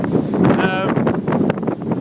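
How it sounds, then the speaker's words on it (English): Strong gusty wind in Okinawa buffets the microphone in a loud, continuous roar, with a voice partly audible underneath. "let me just give you an idea of the winds"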